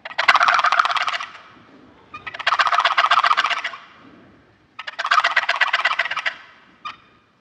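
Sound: two-sided box turkey call imitating a gobbler's gobble

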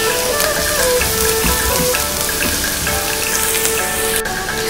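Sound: garlic frying in pan

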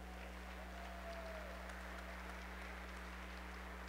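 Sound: audience applause at awards event

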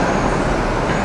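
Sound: RC touring cars racing on a carpet track

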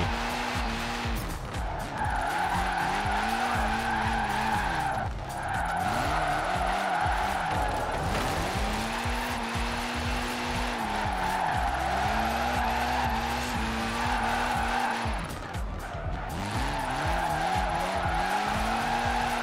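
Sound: car drifting with tire skids in Forza Horizon 4 video game

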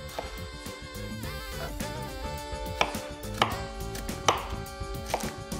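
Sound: chopping taro into small brunoise with a knife

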